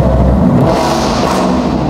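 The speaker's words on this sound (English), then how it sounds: "See there as I rev the engine." Supercharged 2017 Ford Mustang Shelby Super Snake 50th Anniversary V8, about 750 horsepower, revving in a steady loud roar with deep rumble throughout, close and unbroken, no talk over it.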